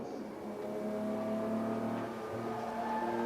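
Jaguar E-Type, a 1963 car, racing at Silverstone; a steady engine drone holds throughout with a gradually shifting pitch, fairly close and continuous, with no voices over it.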